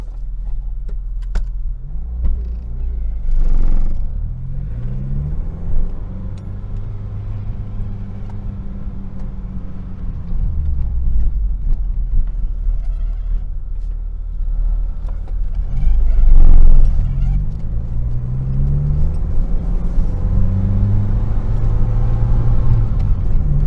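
A 1982 Honda Prelude driving, with a steady engine drone and road rumble that rises and falls through gear changes and acceleration, fairly close and with no talking.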